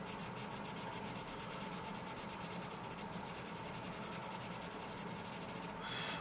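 Continuous scratchy rubbing of a dark Staedtler Mars Lumograph EE graphite pencil on paper, steady strokes with a faint rhythmic texture, quiet and close.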